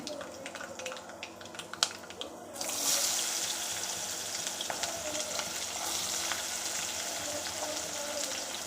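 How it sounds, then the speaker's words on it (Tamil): Shallots sizzle and fry steadily in oil in a pan, with occasional stirring clicks, becoming louder and fuller partway through. "சின்ன வெங்காயம் ஒரு மூணு கைப்பிடி அளவு போட்டு நல்லா வதக்கணும்"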